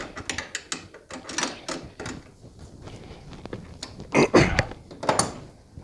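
Metal hardware being tightened on a passenger grab rail of a 2018-or-later Honda GoldWing, with a run of close ratchet clicks and tool clatter in short bursts, plus a few heavier knocks near the end.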